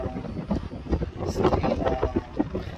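Gusty wind buffets the microphone in uneven bursts on an open, unenclosed Ferris wheel, with faint creaks and rattles underneath.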